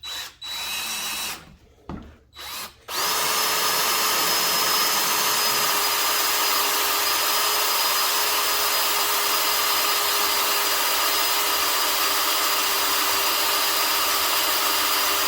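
A power drill bores through a steel Harley Sportster 2-into-1 exhaust, with a few short stuttering bursts before the motor settles into a loud, steady, high-pitched whine held for over ten seconds.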